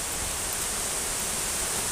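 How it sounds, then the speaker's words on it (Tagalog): Dumalabdab Falls, a waterfall, rushes with a steady, dense broadband roar that fills the short stretch without a break. "Ayan, yan yung Dumalabdab Falls."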